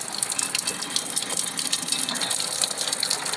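Water gushes steadily from a pipe into a homemade village shower, a loud continuous hissing rush with no pauses.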